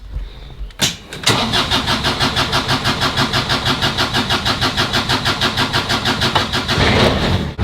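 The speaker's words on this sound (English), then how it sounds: "little cold start this morning. Well, Diesel's got the glow plugs" Diesel engine cold start with glow plugs, a brief crank and catch, then a loud, close, rhythmic knocking idle that pulses steadily without letup.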